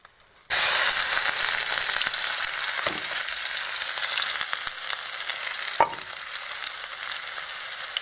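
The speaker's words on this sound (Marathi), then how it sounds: "चला आता मस्त तेल गरम झालेलं आहे आणि मी आता टाकून घेते हिरवी मिरची आणि लसण आणि कांदा" Green chilli, garlic and onion drop into hot oil with a sudden loud sizzle that keeps crackling steadily, with a couple of stirring knocks along the way.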